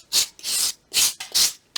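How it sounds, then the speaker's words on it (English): A nail file scrapes back and forth across paper in place of a sanding block, giving five close, rhythmic rasping strokes separated by brief pauses. "I switched the sanding block for a nail sand."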